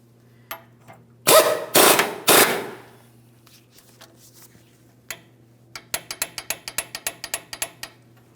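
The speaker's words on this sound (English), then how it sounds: "Now I'll jack this up." Ratcheting clicks from jacking up the front lower control arm on a 2007-2014 GMC Sierra 2500 HD: a few loud rasping pumps, then a fast regular run of sharp ticks, close up over a low steady hum.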